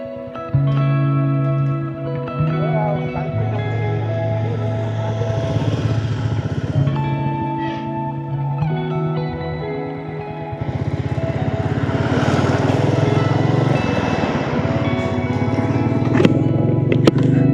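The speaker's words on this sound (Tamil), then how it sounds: "நான் உங்களை பார்த்ததுக்கப்புறம் தான் இப்போ நான் வண்டி பிக்கப் பண்ணேன்." A motorcycle rides along a winter road through pine forest between Ooty and Wayanad, its engine droning steadily and rising as it picks up speed, with wind and passing traffic noise underneath.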